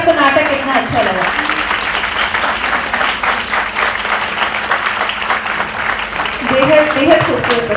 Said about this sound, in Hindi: आपकी तालियों की गड़गड़ाहट बताएगी कि आपको नाटक कितना अच्छा लगा।